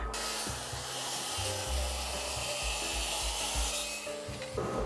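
A hand saw cuts wood with steady back-and-forth rasping strokes, close and continuous for several seconds, without talk.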